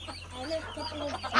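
A rooster clucks in short, soft, repeated calls at a farm where ducks and chickens are kept, fairly close, ending with a brief burst of noise.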